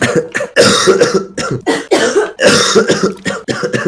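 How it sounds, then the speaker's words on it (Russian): Repeated harsh coughing fits from one person, close and loud, several bursts in quick succession with short gasping breaks between them. "Мне так плохо, когда я кашляю"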